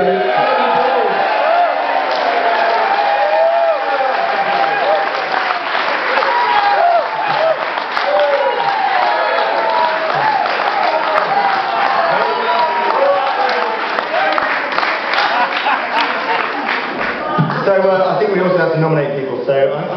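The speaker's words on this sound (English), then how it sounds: "Give us a round of applause" A crowd applauds and cheers a folk trio performing with their feet in buckets of ice-cold water: dense, loud clapping with whoops and overlapping crowd voices, sustained steadily for about twenty seconds.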